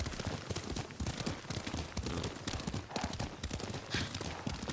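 Horse hooves clip-clop in a quick, rhythmic gallop during riding in the video game Ghost of Tsushima, moderately loud with faint background sounds.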